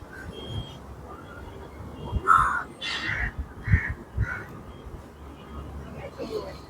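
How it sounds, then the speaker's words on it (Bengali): Crows caw several times in short, separate bursts at moderate distance in a lakeside nature park in Kolkata, over a low outdoor background with a person talking. "পাখিরা ডাকছে"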